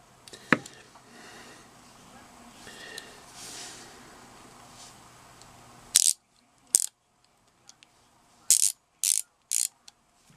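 A Harbor Freight Pittsburgh 3/8 inch 72-tooth ratchet gives several short, sharp clicking bursts after a stretch of quiet background hum, each burst close and crisp with brief gaps between.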